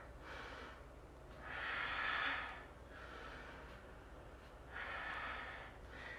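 Two long, audible exhalations come through the mouth during a power yoga session, separated by quiet breathing, close and soft with no talk.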